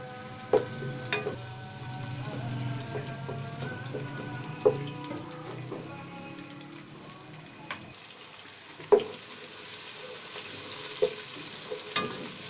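A medium-sized onion, roughly sliced, sizzles in a pan over high flame for an Indian dhaba-style aloo gobi, a steady soft frying hiss with occasional sharp clinks and stirring knocks.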